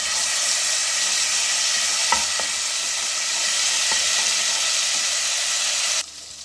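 A teaspoon of ginger garlic paste fries in a tablespoon of hot oil in a pan while bhindi masala is being made, giving a loud, steady sizzling hiss. A few light spoon taps break through before the sound cuts off abruptly near the end.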